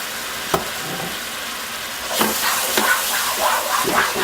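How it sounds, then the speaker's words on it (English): Sweet vermouth hits a hot pan while lobster thermidor is being made, setting off a loud, steady sizzle and hiss. The sizzle flares into a stronger burst of frying partway through and keeps crackling to the end, with no talk over it. "Deglaze that pan like that."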